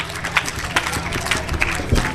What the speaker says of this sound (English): do loud clap for Saad Hafiz.